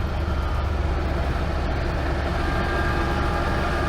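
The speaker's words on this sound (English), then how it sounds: "This car is so loud." Invacar invalid carriage driving at nearly 50 mph, a loud, steady engine roar mixed with road and wind noise, heard from inside the cabin with no break.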